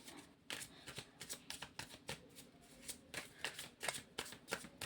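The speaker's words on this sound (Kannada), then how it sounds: "ಯಾಕೆ ಇವತ್ತು ಕಾರ್ಡ್ ತುಂಬ ಶಫಲ್ ಮಾಡೋದಕ್ಕೆ ಕಷ್ಟ ಆಗ್ತದೆ" Tarot cards are shuffled by hand for a Kannada tarot reading, producing a soft, uneven sequence of close riffles and slaps with small pauses between bursts.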